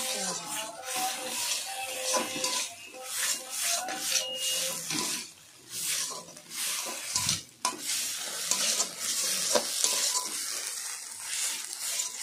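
Pumpkin leaf bhorta being stirred in a pan: repeated scraping strokes of a spatula against the pan over a soft sizzle, close and fairly quiet, with brief pauses between bursts of stirring.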